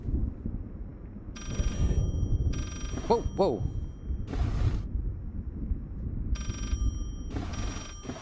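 Telephone ringing from behind a bookshelf inside a study in the horror game Layers of Fear, ringing in repeated bursts of bright bell tone over a low rumbling ambience, while a man reacts with an exclamation.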